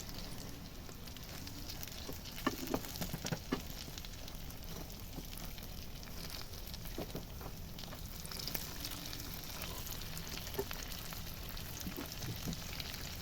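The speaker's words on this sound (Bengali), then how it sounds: "লাল লাল করে ভাজছি আমি উল্টে পাল্টে দিচ্ছি" Sausages fry steadily in a pan, a constant soft sizzle and crackle with a few sharper pops, quiet and close.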